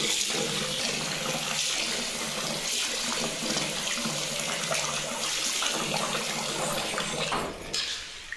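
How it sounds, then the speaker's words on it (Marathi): Continuous running and swishing of water as finger millet grain is washed, a steady splashing wash with faint clinks near the end. "जोपर्यंत हे घाण पाणी निघते ना तोपर्यंत नागली धुवत राहायची"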